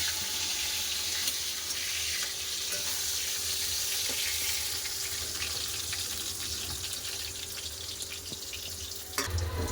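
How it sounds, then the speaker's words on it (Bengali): Eggplant slices frying in hot mustard oil, a steady, dense, close-up sizzle that runs without pause, with a brief clatter near the end. "তেল গরম হয়ে গেছে এবার এক এক করে বেগুন ছেড়ে দেবো"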